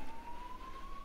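A fire brigade truck's siren sounds as the vehicle departs in a hurry onto wet roads in a small Australian town, a steady tone rising slightly in pitch over ongoing road noise, moderately distant and continuous without talk.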